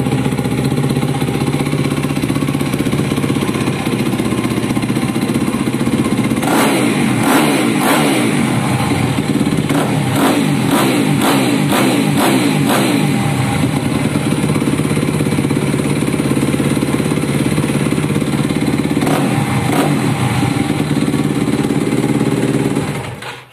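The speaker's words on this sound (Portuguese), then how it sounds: "Deixa eu ligar a moto para ver como é que ficou agora" A Yamaha WR250 or WR450 dirt bike engine runs steadily nearby, with a burst of rapid revs in the middle and another short rev near the end.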